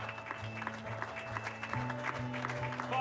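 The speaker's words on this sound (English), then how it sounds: "Come on, give him a hand clap." A church congregation claps during a morning service, steady dense applause running throughout, with organ or keyboard chords sustained underneath.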